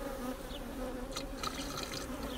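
Honey bees around a beehive being fed sugar water make a steady, dense buzz that fills the whole clip with no talking.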